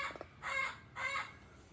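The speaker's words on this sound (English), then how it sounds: "That's Azula, a blue-fronted Amazon parrot in the background, screaming." Two long, harsh screams from a blue-fronted Amazon parrot somewhere in the background, each lasting about half a second and separated by a short pause, fairly faint and distant.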